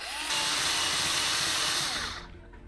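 Cordless screwdriver fitted with a Milwaukee 90-degree drill attachment backing a screw out of a flange on a Ducati Diavel 1260 S gas cap housing, a steady high whine running about two seconds before spinning down.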